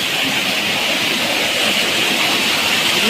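A small waterfall on a rainy Konkan outing runs as a steady, close rushing hiss of falling water, continuous and unbroken throughout.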